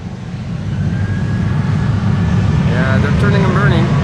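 At Amsterdam Schiphol Airport, an airliner's jet engines swell from a low rumble into a loud, building roar as the plane turns onto the runway and powers up for takeoff, with voices talking over it.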